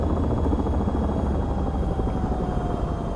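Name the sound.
helicopter rotor in a flight video game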